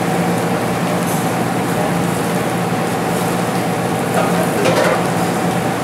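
Diced onions and home fries frying together with seasoning on a flat restaurant griddle, a loud continuous sizzle with steady crackle close up, occasional light scraping as the food is mixed, no talking.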